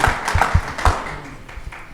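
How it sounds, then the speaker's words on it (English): An audience claps for a mentor named Antonio during a live podcast alumni panel, with several loud, sharp clap bursts up front that thin out into scattered, softer applause. "clap it up for Antonio, your mentor"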